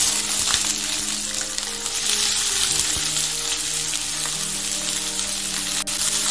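Onion and green chilies sautéing in hot oil for chicken tawa rolls, a continuous even sizzle with occasional stirring knocks, close and steady with no talking.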